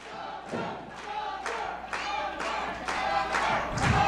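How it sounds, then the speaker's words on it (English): An independent wrestling crowd chanting rhythmically for Latin Thunder, loud repeated shouted bursts roughly twice a second over a roomy din of cheers, building slightly toward the end. "This crowd is heavily behind Latin Thunder."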